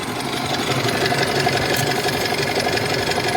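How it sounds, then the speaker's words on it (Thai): A 2005 Isuzu D-Max Hi-Lander pickup with a stock 3.0 engine idles in a steady, even rumble that holds at constant loudness throughout, with no voices. "ติดแล้วนะครับ เครื่องยนต์เนียนๆแน่น ๆ ครับ"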